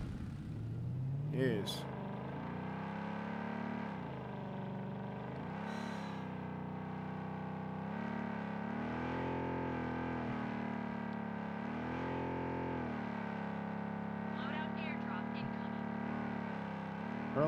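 A car engine in the video game BloodStrike, a steady drone that rises and falls as the car accelerates and shifts, with a voice speaking briefly over it.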